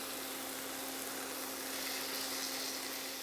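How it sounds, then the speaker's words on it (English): Chicken breasts frying in a pan give a steady, even hiss of sizzling fat that continues unbroken throughout, close and moderately loud, with no talk. "I'm just going to turn that down and lessen the sizzle"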